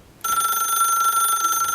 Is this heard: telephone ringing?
yes